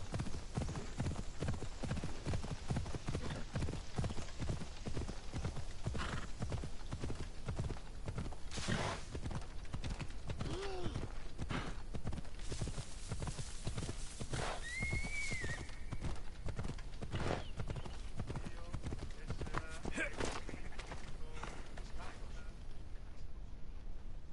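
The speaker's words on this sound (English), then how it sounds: "Let's go, Phobos. At least the horses catching up quicker." Horse hooves clip-clop in a steady galloping rhythm throughout, with occasional whinnies, while riding in the video game Assassin's Creed Odyssey; background game sounds and voices accompany it.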